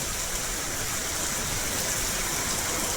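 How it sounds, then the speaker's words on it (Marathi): Steady, dense rain hiss on farmland during the cotton season, with no pauses, even and fairly close, no voices. "बघू शकता पाऊस आली बघा मित्रांनो"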